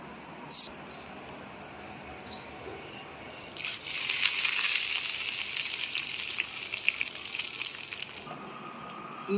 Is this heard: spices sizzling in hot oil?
yes